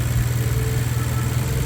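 A Mazda 2 Skyactiv engine with worn engine mounts runs steadily at idle, a close, loud, even hum with a low droning tone and no voices.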